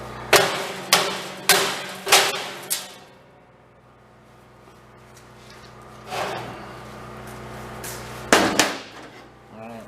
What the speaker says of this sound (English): Hammer to fix that.